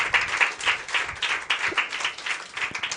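A church congregation claps loudly in praise, a dense sustained burst of many hands with a slightly rhythmic pulse, filling the room throughout.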